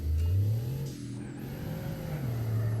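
A Bugatti engine in a video game revving and accelerating, its pitch rising, dipping and climbing again, close and steady with a faint high whine above.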